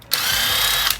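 A power tool spins off 17 millimeter lug bolts from a BMW 650i wheel, a loud, steady high-pitched whir lasting under a second with an abrupt start and stop.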